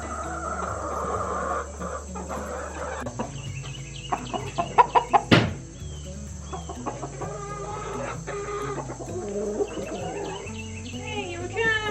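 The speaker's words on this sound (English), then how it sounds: "Hey, chickens." Chickens clucking on a homestead, a busy close chorus of clucks and squawks with a brief louder cry midway and a person's voice heard now and then.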